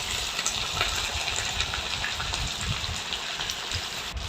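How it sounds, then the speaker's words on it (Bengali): Sliced onions and capsicum hit hot oil left from frying soya chunks for soya chilli, giving a steady, dense sizzle with no voices. "তারপরে সেই তেলেই দিয়ে দিলাম পেঁয়াজ এবং ক্যাপসিকামগুলো"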